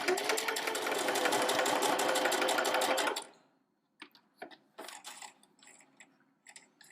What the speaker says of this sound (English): now that we're ready to start sewing, I've got my fabric right on my 1/4 inch seam allowance, and let's go.